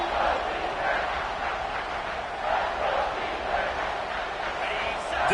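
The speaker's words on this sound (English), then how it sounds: "Decibels rising as the crowd gets behind this defense on third down." A stadium crowd in the college football video game NCAA 26 roars for the defense on third down: a steady wash of cheering with swelling waves of noise, fairly loud and continuous.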